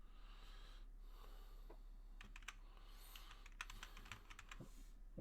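Computer keyboard typing, a quick run of light clicks and key taps, soft and fairly close, with no one talking.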